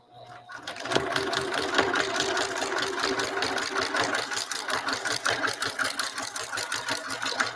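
Sewing machine basting through a thick mushroom-shaped pot holder with batting, a close, steady rapid needle chatter with a rhythmic pulse that runs continuously after a brief start-up.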